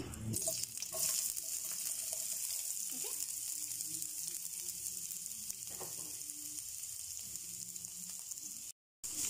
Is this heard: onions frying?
yes